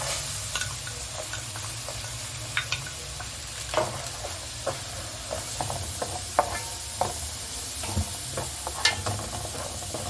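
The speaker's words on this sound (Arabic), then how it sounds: "ودلوقتي زودنا حبه زيت وحته سمنه. هننزل بالبصل." Onion fries in oil and ghee in a pan while making chicken piccata with mushrooms, giving a soft, steady sizzle broken by scattered clicks and scrapes of stirring.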